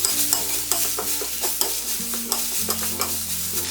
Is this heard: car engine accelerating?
no